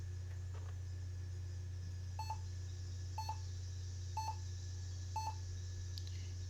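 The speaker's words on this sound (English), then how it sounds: "And we get a couple of beeps there." An HP DV6000 laptop with a blank screen gives error-code beeps at power-up: four short, faint beeps about a second apart over a steady low hum.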